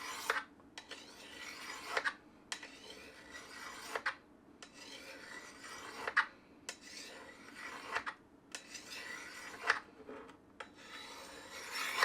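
A knife blade is drawn repeatedly across a sharpening stone, giving about a dozen rhythmic rasping strokes in an even back-and-forth pattern, each with a short scraping burst, close and clear with no talk.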